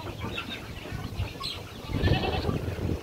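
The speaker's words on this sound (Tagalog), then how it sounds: "May kambing na kumakain ng feed sa ilalim ng tulungan guys," Goats bleating nearby while eating feed, among steady farmyard noise, with a few calls rising over a low background rumble.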